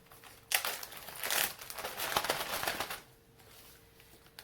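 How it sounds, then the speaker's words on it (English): Plastic bag crinkling and rustling while cuttings of Cebu Blue pothos are packed for shipping, a burst of crisp crackles that starts abruptly, peaks, then thins to quieter rustles, with no talk. "I get a plastic bag."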